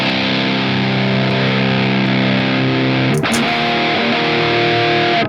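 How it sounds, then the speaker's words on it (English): A loud, sustained distorted electric guitar rhythm chord made in BIAS FX 2, ringing steadily, then a brief scrape and a change to a new held chord. "They're not overly bright guitar tones."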